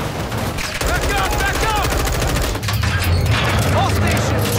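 Dense automatic gunfire during an ambush in Call of Duty: Modern Warfare II rattles on continuously and loudly, with booming impacts and voices calling out over the shooting.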